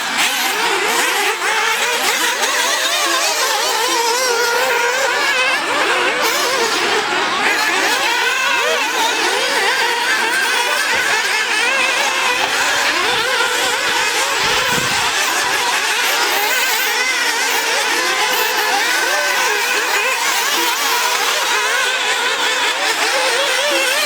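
Nitro RC buggies race around a track, their small high-pitched engines buzzing and revving steadily and continuously, overlapping as they rise and fall with no break.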